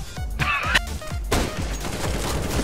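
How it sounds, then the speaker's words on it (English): Burst fire in the shooter Counter-Strike: Global Offensive, a loud, close cluster of rapid shots with crashing impacts, dense and continuous across the short stretch. "you got burst fired, Rip."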